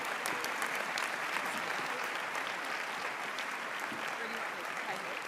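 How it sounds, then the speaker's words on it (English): Audience applause after a graduation-style ceremony speech, dense and steady clapping from a large crowd filling the whole stretch at an even, loud level. "give each other a big round of applause"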